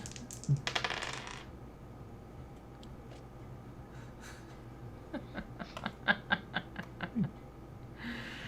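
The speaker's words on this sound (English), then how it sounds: "I heard her dice click" Dice rattle and click across a table during a tabletop Dungeons & Dragons game: a short rattle early on, then a quick run of light, close clicks, with faint laughter in the room.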